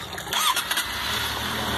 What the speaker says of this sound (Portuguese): Aí funciona a moto, liga aqui, ó.